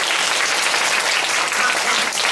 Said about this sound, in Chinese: 让我们以最热烈的掌声欢迎周建恒教授